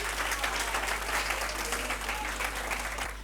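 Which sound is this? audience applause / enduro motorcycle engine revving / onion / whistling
audience applause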